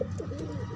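A sick merpati gambir pigeon gives a short, low throaty coo, close and fairly quiet, heard alone in a brief burst.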